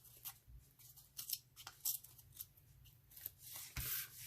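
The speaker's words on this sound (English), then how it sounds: "I'm gonna rip the edges." Paper scrap edges being torn by hand come through as short, dry ripping and rubbing bursts, several in irregular succession, close and fairly quiet.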